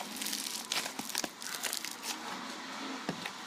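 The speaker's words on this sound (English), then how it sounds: "It's crunchy slime." Crunchy slime is squeezed and worked by hand close to the mic, giving irregular crackling and popping crunches with sharp little bursts spread across a few seconds.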